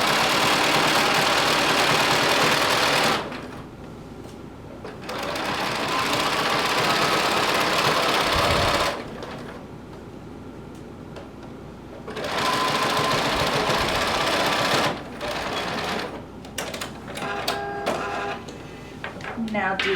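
A sewing machine stitches fabric in three long runs separated by short pauses, a close, loud, steady rattling whir, then a final stretch of quick stop-start bursts.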